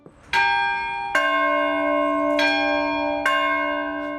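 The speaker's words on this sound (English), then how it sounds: "I just rang a bell that was being rung in the 1700s in a church in Italy" An 18th-century Italian church bell, now hung atop a tower, is struck four times at a slow, uneven pace. Each loud, clear strike rings out with rich overtones, and its long ringing hum sustains beneath the next.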